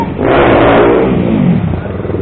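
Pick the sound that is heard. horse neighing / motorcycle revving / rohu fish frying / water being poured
motorcycle revving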